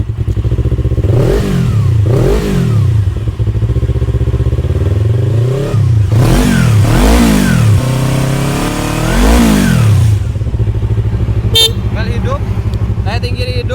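A 2015 Kawasaki Ninja R25 motorcycle engine revs repeatedly from idle, rising and falling in several loud throttle blips close by, then settling back to a steady idle with a few sharp clicks near the end.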